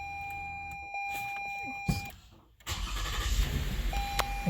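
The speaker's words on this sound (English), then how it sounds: "Next step is to turn on the ignition." A 2019-2020 Lexus RX350 has its ignition switched on: a steady chime tone sounds, then the starter cranks and the engine catches and settles into a close, steady idle as the chime returns.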